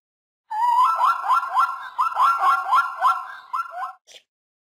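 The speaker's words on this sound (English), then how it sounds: "And what sound does a zebra make?" A zebra calls in a rapid run of harsh, yelping barks, each pulse strongly voiced and repeated for several seconds before a brief final yip, close and loud with no talking.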